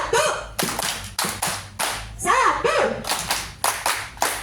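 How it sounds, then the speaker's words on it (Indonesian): A group plays a clapping ice-breaker at an outdoor outbound event in Karanganyar, Central Java, producing a rhythmic series of sharp, close claps in separate bursts, with brief voiced shouts mixed in. "kalau saya bilang 1, silahkan tepuknya seperti ini"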